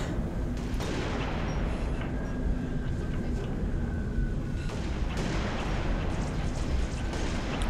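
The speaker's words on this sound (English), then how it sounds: "Who's that shooting down there?" Distant gunfire in Halo: Reach pops and rumbles under a constant noisy battle ambience, with occasional sharper reports and faint voices in the mix.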